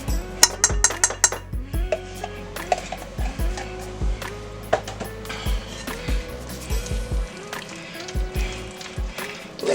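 A utensil scrapes and knocks against a bowl while chicken pasta salad is stirred with mayonnaise, giving irregular clinks and taps with quiet pauses between them.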